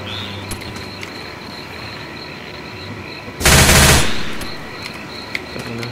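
A short, very loud burst of automatic gunfire in Left 4 Dead 2, lasting about half a second and rising sharply out of quieter game ambience, with scattered clicks and small mechanical sounds around it.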